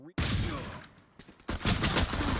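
Gunfire in Valorant during a competitive esports match, a rifle fight with the shooter down to six bullets. A loud burst of rapid shots starts suddenly, drops away, then a second volley follows, all close and sharp with a caster talking over it.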